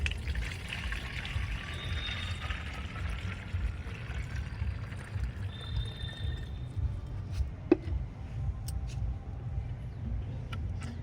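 Water runs steadily into a one-litre bottle already holding Epsom salt, a soft continuous pouring hiss under a low background hum, with a few faint clicks toward the end.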